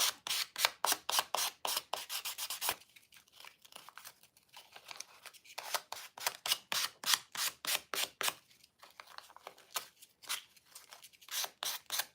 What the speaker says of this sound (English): sand that off.